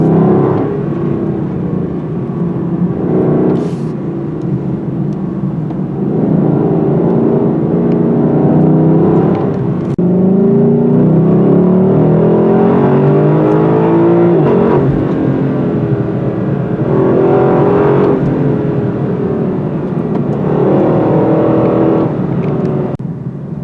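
A 2023 Lexus LC 500 with its V8 and 10-speed automatic pulls hard, its engine note rising and falling through several surges and upshifts, loud and close for the whole stretch.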